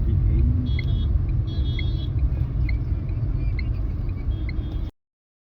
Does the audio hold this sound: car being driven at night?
yes